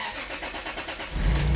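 A Toyota Supra, 147,000 miles on it and fitted with a dead starter, cranks briefly and then catches, its engine firing into a loud, steady idle in the last half second.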